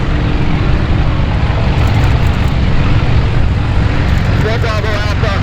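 Light aircraft engine roars at takeoff power during busy departures at EAA AirVenture Oshkosh, a loud steady broadband drone throughout with a radio voice briefly cutting in near the end.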